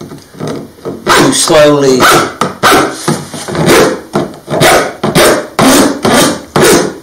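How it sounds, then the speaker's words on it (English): The round side of a rasp files a tapered Formica edge in repeated loud, rough strokes, each a harsh broadband rasp, with someone briefly speaking between them. "that's when I usually use the round side of a rasp"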